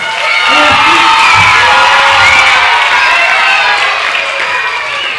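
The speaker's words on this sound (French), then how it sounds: "On applaudit l'oiseau." A crowd of children at a Peter and the Wolf show claps and cheers loudly, with high shouts and whoops over dense, steady applause throughout.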